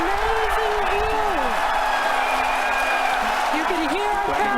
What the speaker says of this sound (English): You can hear our crowd going crazy right now.